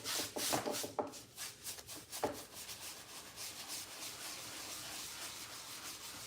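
A brush drags wood stain across the back of a piece of furniture in soft, rhythmic scrubbing strokes, close and fairly quiet, with no voices.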